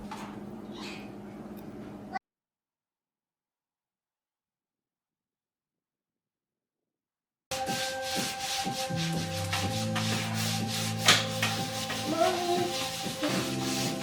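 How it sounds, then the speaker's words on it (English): Wet sanding of drywall joint compound over mesh tape on a kitchen wall where a cabinet was removed, rhythmic rubbing strokes close by, heard briefly, then a long silent gap and denser scraping with other workshop noise. "Doing some wet sanding."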